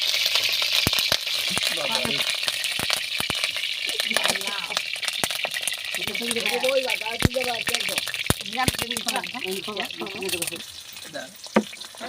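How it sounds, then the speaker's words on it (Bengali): Oil heats and sizzles in a kadai on a stovetop, a steady hissing bed with scattered clicks and clinks, while a person talks over it throughout. "এরপর কড়াইয়ে তেল দেওয়া হবে এরপর তেলটা দেওয়া হলো"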